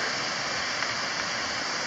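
Steady broadband rush of a creek running beside a hiking trail cut into a steep hillside in Cape Breton, Nova Scotia, heard close and continuous with no voices over it.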